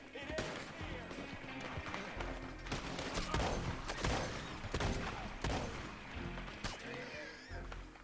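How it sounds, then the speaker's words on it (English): Rapid bursts of video game gunfire crackle in quick volleys throughout, close and sharp, with voices talking underneath. "I don't know who the hell's shooting at me and why, but they are"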